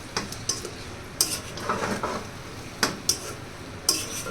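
A spoon stirs fried rice and cooked mutton together in a pot for Puran Dhaka–style mutton tehari, giving close, irregular scrapes and metallic clinks against the pot with no talk.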